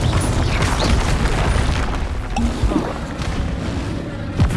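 A Confringo spell explosion in Hogwarts Legacy combat lands as a loud, dense boom within continuous battle noise, rumbling crashes and debris filling the whole stretch with a final sharp hit at the end.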